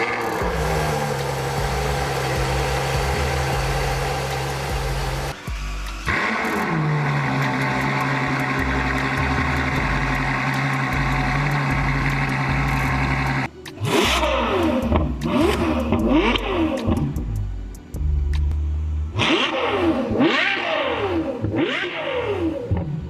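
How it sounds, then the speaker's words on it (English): Ferrari F12 V12 fitted with Klein valve control mufflers, revving loudly and close, with sustained high-pitched wails, short cut-offs and a run of quick throttle blips toward the end, no talk. "the customer provided us a set of the Klein valve control mufflers, which give this that sweet Italian V12 sound"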